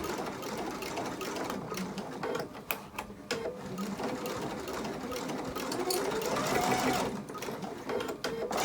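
A sewing machine stitches binding onto a pink potholder in a steady, continuous mechanical whir with rhythmic needle clatter, speeding and slowing slightly, close and alone with no talking.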